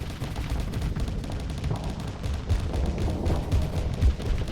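Ship turrets in the space combat game Starsector fire continuously, a dense, rattling barrage of rapid gunfire and impacts that runs throughout without speech.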